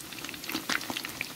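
Egg-dipped bread slices fry in hot oil, giving a soft, crackling sizzle with scattered small pops and a couple of brief louder spatters, close and fairly quiet.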